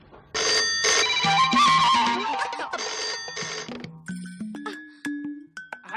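Ringing tone of a landline telephone in a Hindi-dubbed film scene, a bright repeating electronic ring that fills the clip and then breaks into shorter, fainter chirps toward the end, with no voices over it.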